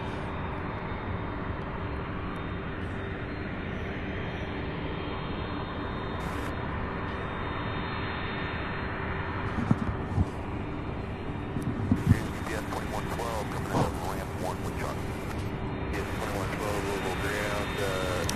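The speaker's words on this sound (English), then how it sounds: "MD-11 on the move as far as departure" A UPS MD-11 cargo jet taxis for departure at Louisville International Airport, its steady engine drone filling the air continuously, with brief knocks and faint voices in the background.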